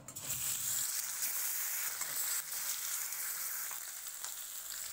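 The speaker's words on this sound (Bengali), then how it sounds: "তেল গরম হয়ে গেছে, এবার মাছগুলো দিয়ে ভেজে নেব।" Fish sizzle in hot mustard oil in a wok, a steady, close, loud frying hiss that runs throughout with small crackles and no talking.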